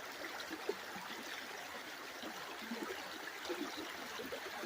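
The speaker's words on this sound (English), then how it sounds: "there's just barely a little trickle of water" A small trickle of water runs through a sluice box, a steady faint outdoor wash of flowing water with no talk.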